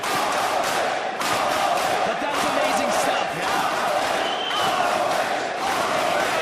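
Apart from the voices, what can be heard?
wrestling crowd giving a standing ovation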